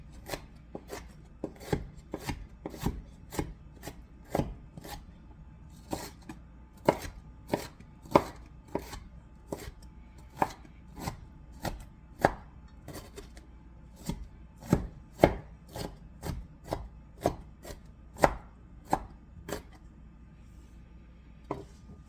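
Celery for a beef, barley and mushroom stew is chopped on a board, with a steady series of crisp, close knife strikes, some quick and some spaced out.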